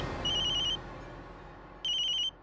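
A telephone rings in a home, two electronic trilling bursts about half a second each separated by a pause of roughly a second, clear and near over quiet room tone.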